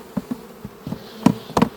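Bees buzzing around drained honey frames in a hive box, several brief close buzzes as individual bees fly past, with some thuds from handling the frames and no talking.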